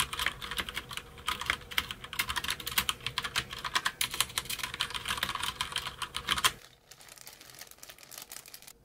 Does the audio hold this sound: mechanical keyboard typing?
yes